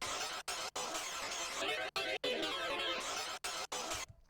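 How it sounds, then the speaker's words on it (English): A harsh, gritty saxophone tone through distortion and grain delay, with a robotic, granular texture, plays in chopped bursts separated by abrupt silent gaps. "So the saxophone starts distorting, it starts getting interesting for me."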